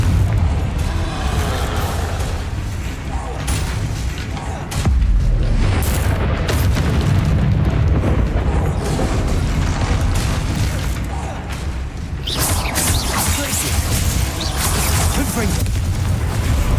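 Confringo fire-spell blasts in Hogwarts Legacy: a dense run of loud, close booms and crackling bursts over a steady rumble of combat noise, with sharper hits near the middle and again near the end.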